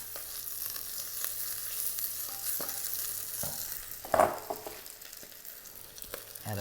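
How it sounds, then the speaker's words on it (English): Fresh spinach stirred and wilting in a hot pan, with a steady soft sizzle and light scraping throughout and one brief louder clatter near the middle. "Then we're going to add spinach one hand at a time. Give it a quick stir."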